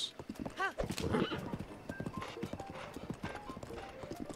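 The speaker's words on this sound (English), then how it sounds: "Brandon, the beautiful horse." Horse hooves clip-clop steadily alongside a brief whinny in Zelda: Breath of the Wild (The Champion's Ballad), with game music and sounds layered underneath.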